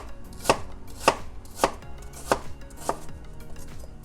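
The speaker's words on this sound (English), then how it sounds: "Follow the same step and finish cutting the rest of your apples." A knife slices apples thinly for an apple cobbler, producing five crisp, evenly spaced chopping strikes against a board, close and distinct with quiet gaps between them.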